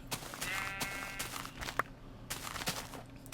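Sheep bleating in the video game Minecraft, a couple of short wavering bleats near and moderately quiet, with soft footstep-like taps and a sharp click in between.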